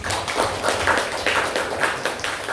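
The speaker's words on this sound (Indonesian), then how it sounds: "Ya, tepuk tangan buat kalian semua." A classroom of students claps for a group after a photosynthesis lesson, a run of loosely rhythmic hand claps close by, sustained for a few seconds.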